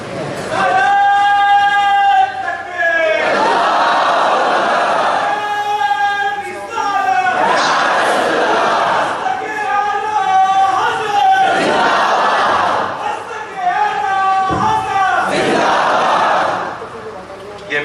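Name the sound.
crowd chanting religious slogans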